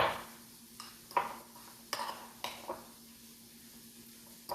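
Parmesan cheese being mixed into a portobello mushroom stuffing in a bowl, heard as a few quiet, scattered scraping and tapping strokes with faint room hum between them.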